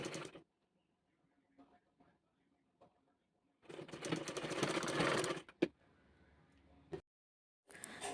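A sewing machine stitching a fabric puff sleeve, with bursts of fast rhythmic mechanical running separated by quiet pauses and small handling sounds.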